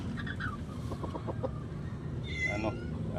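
Bulik backyard rooster giving a run of short clucks, quiet and fairly close, with a few higher calls later among faint background noise.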